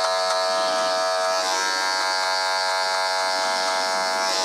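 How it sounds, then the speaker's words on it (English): A Babyliss double-edged electric shaver runs steadily during a haircut fade, a loud close buzzing drone that stays constant with no voices. "So now we're going with the shaver, double-edged saber, Babyliss."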